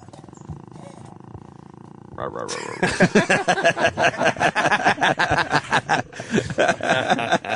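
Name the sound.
man imitating a cat growl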